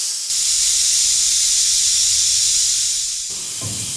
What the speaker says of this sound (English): We can move the bar screw forward.